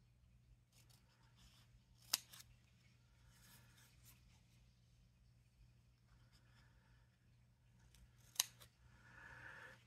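Scissors cut paper for a crafting explosion box, with quiet snipping and two sharp, distinct cuts standing out against a faint, near-silent background.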